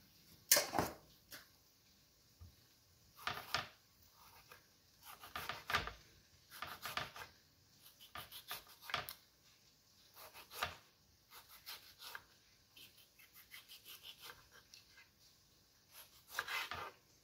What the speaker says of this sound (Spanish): yo voy a picar tres tomates